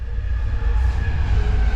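A steady low rumble of a passing train, continuous and fairly loud with faint tonal squeals above, no voices.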